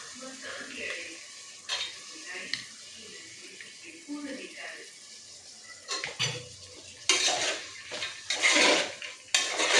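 Carrots, beans and peas being stirred in a cooking pot, with a utensil scraping and clinking against the metal in irregular bursts that grow louder toward the end, and a voice faintly underneath.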